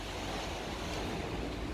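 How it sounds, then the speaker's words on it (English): Storm winds gusting up to 90 km/h roar over ocean waves off the Gulf Islands, a loud, steady, broadband rush with constant surf and wind buffeting the microphone throughout. "We got winds gusting up to 90 kilometers an hour outside."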